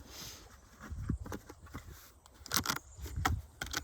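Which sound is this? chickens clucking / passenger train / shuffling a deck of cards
shuffling a deck of cards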